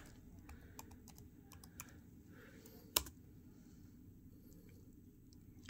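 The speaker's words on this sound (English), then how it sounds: "you want to type in your username" Typing a username and password on a computer keyboard: a few sparse, faint key clicks spread across quiet room tone, with one sharper, louder tap near the middle.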